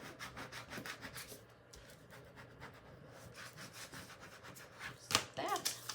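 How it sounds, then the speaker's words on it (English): Transfer tape being burnished onto an acrylic sheet with a rubbing tool, giving a steady run of close, scratchy back-and-forth rubbing strokes, followed by a louder sharp scrape near the end. "Burnish this down one more time."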